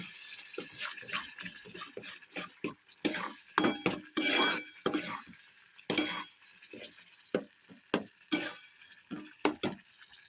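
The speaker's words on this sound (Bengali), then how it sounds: "এখন বেশ অনেকক্ষণ ধরে কষাবো কষিয়ে কষিয়ে তেল ছেড়ে দেবে" Spice masala stir-fried in oil in a pan, with a spoon scraping and clinking against the metal in quick, irregular strokes over a soft sizzle, close and fairly quiet.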